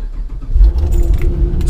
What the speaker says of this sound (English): We'll go ahead and start the car on.